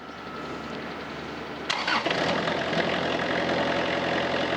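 A Harper Turf ATM72LC slope mower's engine cranks and catches partway through, then settles into a steady, fairly loud idle close by.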